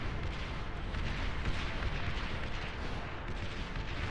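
Rockets explode in a robot battle video game as a dense, continuous barrage of booms and blasts, loud and unbroken throughout with no clear gaps between hits.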